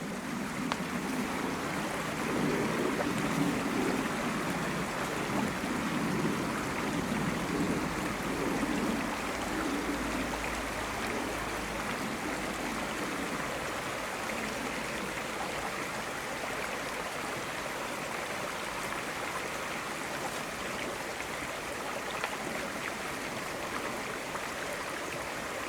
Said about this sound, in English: It's nice when you've got a stream on your doorstep.